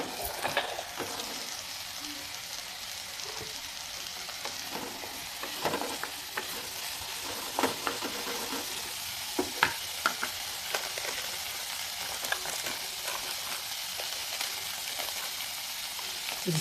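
Chillies for a sweet-and-sour pickle fry gently over a low flame, giving a constant hissing sizzle with scattered scrapes and taps of a spoon stirring the pan.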